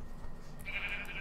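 A pink sheep in the video game Minecraft lets out a single drawn-out bleat, clear and close, over a faint background hum.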